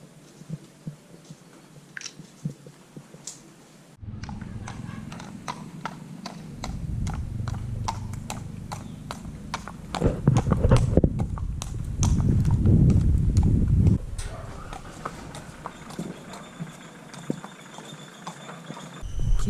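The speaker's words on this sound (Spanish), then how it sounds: "El caballo viene desde allá de los granaderos" Horse hooves clip-clop at a steady rhythm, close and fairly loud, on a paved street in the Corrientes province town of Yapeyú, with no talk over the steps.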